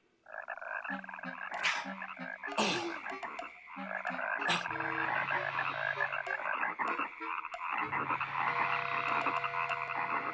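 Frogs croak loudly and continuously in an animated film's plague-of-frogs scene, many overlapping croaks layered with music and sharp effects, with no talk.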